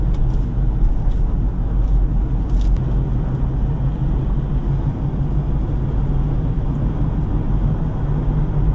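A 2018 Ford Ranger Wildtrak 4x2 pickup is heard on the road from inside the cab. There is a steady, heavy low rumble of engine and tyre noise, continuous and even throughout, with no talk.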